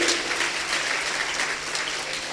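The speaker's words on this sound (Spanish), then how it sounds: "Dale un fuerte aplauso al Rey de la Gloria" A church congregation claps together in a worship service, a full, even wash of applause filling the room for about two seconds.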